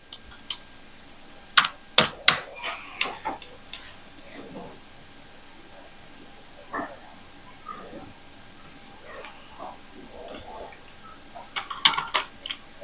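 Someone types data into an Excel spreadsheet on a computer keyboard, producing close, crisp key clicks in short bursts separated by pauses.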